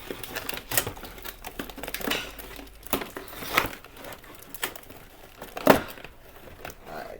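Tape being pulled and peeled off the packaging of a 2022 Corvette Stingray RC car, a run of close, crackly rips and crinkles with a few sharper tearing bursts, under intermittent talk.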